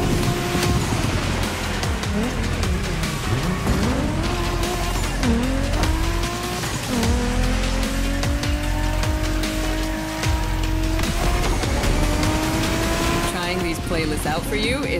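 Japanese drift race cars in The Crew Motorfest scream through revving, shifting engine notes with tire squeal and skids over a long run, loud and up close, under a speaking voice.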